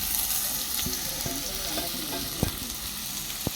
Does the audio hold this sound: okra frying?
yes